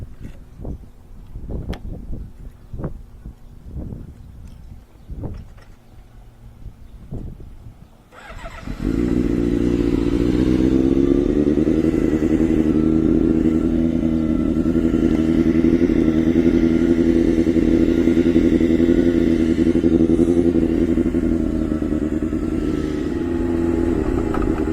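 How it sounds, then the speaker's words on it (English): A motorcycle started without its key gives several sharp sputtering attempts and knocks, then the engine catches and runs loud and steady, revving and droning close by for the rest of the time. "Can be hard starting a bike without my key."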